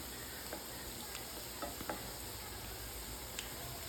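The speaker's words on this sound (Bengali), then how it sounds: "এই যে কাবাবটা দিয়ে দিয়েছি গরম তেলের মধ্যে ভাজা হচ্ছে" Tuna fish kebab frying in hot oil gives a steady, faint, hissing sizzle throughout, with a few soft clicks from a utensil and no voices.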